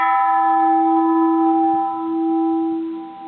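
An 1888 bronze Japanese Buddhist temple bell, struck with the edge of the striker on its repaired side, rings out with a steady sustained tone and strong overtones, close and loud and slowly fading with a gentle waver.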